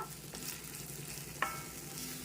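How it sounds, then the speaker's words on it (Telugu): Ridge gourd chutney is stirred in a hot iron pan with the stove just switched off, giving a soft, continuous scraping and faint sizzle with one brief sharp clink partway through. "బాగా మిక్స్ చేసేద్దాము."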